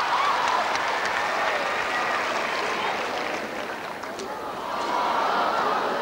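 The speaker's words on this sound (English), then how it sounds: "The crowd expressing their disappointment at Jamaica being given possession." Crowd at a 1993 Australia versus Jamaica international netball test match, a steady broad roar of many voices expressing disappointment, dipping briefly midway and swelling again.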